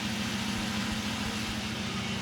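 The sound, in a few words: car exhaust of a Nissan S14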